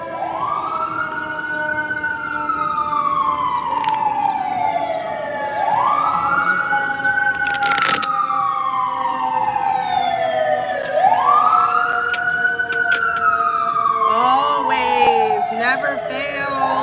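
An emergency vehicle siren wails through a New York street, loud and close, its rising-and-falling tone repeating in long sweeps with a burst of horn blasts near the end, a voice speaking faintly beneath.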